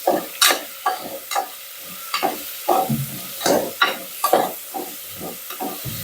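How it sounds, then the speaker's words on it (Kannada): A spoon stirs aloo bath in a frying pan, giving repeated scraping strokes over a steady sizzle, close and fairly loud with no talking. "ಅಗೇನ್ ಮತ್ತೆ ಚಮಚ ತೊಗೊಂಡು ಕಂಟಿನ್ಯೂಸ್ಲಿ ಸ್ಟೀರ್ ಮಾಡ್ಕೊತೀರಿ, ಅಂದ್ರೆ ಕಲಸಿರಿ, ಅಳ್ಳಾಡ್ಸ್ಕೊತೀರಿ ಚಮಚ ತೊಗೊಂಡು"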